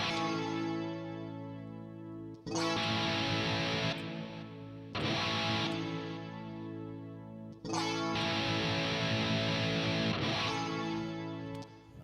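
An electric guitar played through a Line 6 Helix with distortion rings out in thick, sustained chords, struck in three loud bursts with a brief gap before each new strum and no talking.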